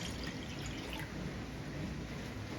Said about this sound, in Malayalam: 2 കപ്പ് വെള്ളം എടുത്തിട്ടുണ്ട്. അത് ഇതിലേക്ക് ഒഴിച്ചു കൊടുക്കാം.